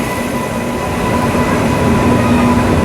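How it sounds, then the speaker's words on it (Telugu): The Kakinada–Mysore express with LHB coaches rolls into platform 1, a loud, steady rumble of wheels and carriages with faint tonal squeal lines running throughout, close by and with no voices. "కాకినాడ నుండి మైసూర్లో ట్రైన్ వచ్చిందండి"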